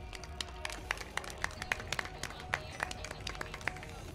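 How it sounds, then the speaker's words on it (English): Scattered, fairly faint handclaps from a crowd at a school sports day, with irregular claps popping over a murmur of voices and background noise. "Please give him a round of applause."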